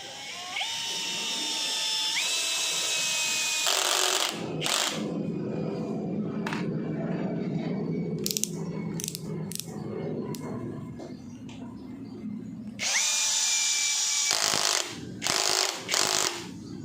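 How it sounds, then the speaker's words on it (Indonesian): An NRT Pro DC743 cordless brushless impact drill drives a 10 cm screw into mahogany without a pilot hole, whining loudly with rhythmic hammering bursts, a pause mid-run, then another long loud burst near the end. "Berikutnya kita akan menyekrup menggunakan sekrup panjang 10 cm, medianya masih sama kayu mahoni tanpa pre-drilling."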